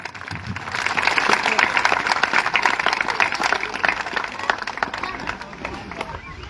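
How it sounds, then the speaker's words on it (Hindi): Loud, sustained applause from a crowd at a Tanti Tatba Pan Samaj rally in Motihari, dense clapping running steadily through the whole stretch with no pause. "एक बार जोर से ताली।"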